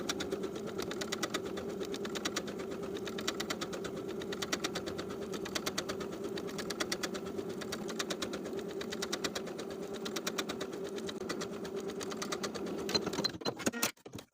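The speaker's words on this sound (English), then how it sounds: "we're going to sew the facing to the bodice along the bottom of the facing and along those finishing stitches" Sewing machine stitching a facing onto the bodice of a peplum top, a steady fast run of needle strokes lasting throughout, fairly close and alone, slowing and stopping at the very end.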